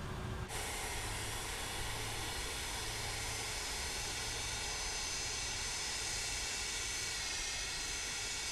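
MD-82 jet engines roaring steadily on the takeoff roll in a flight simulator game, a loud continuous broadband rumble and hiss that holds at full power without a break.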